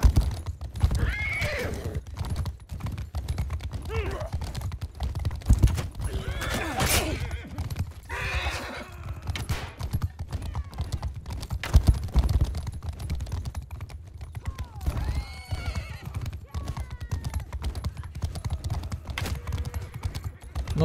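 Heavily armored horses gallop and whinny in the video game Mount and Blade, with rapid clip-clop hoofbeats, repeated loud neighs close by, and a voice talking intermittently over the action.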